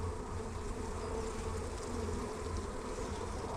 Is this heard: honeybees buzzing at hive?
yes